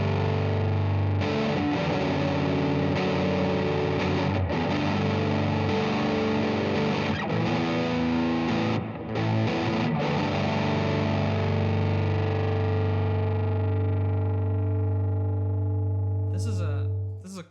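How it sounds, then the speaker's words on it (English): An electric guitar runs through a combined distortion and reverb pedal, playing thick sustained distorted chords that ring out into a long decaying tail, with a few sharp clicks at the end. "this is a distortion and reverb pedal built into one, and it's amazing"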